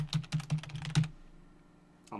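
Rapid bursts of computer keyboard typing, about five quick keystroke clusters within the first second, then a pause and a lone faint click at the end; no voices.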